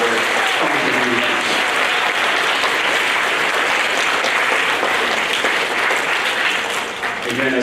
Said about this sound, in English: Just going to give the rest of the adults in the room a round of applause for all of their contributions.